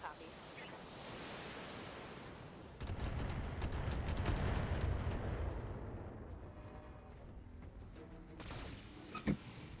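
Mech weapons firing in the BattleTech video game, a roaring volley of blasts and rumbling explosions swelling for several seconds, then fading to a hiss with a couple of sharp pops near the end.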